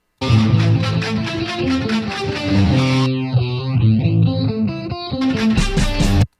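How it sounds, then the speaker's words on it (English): Electric guitar run through a modulating chorus or phaser effect in BandLab, playing a loud, distorted riff with a sweeping, swirling filter passage in the middle before the full riff returns, with no talk. "So that's definitely a modulating effect."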